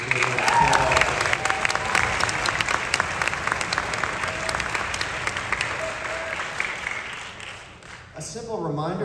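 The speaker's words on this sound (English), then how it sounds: "Big round of applause, everybody, for being here." Audience applause from teachers, parents and community members at a middle school honors orchestra event, steady and fairly full, with some voices mixed in near the end.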